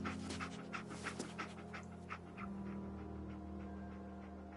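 The dog Dogmeat in the video game Fallout 4 pants in quick, close, rhythmic breaths over a faint steady game hum.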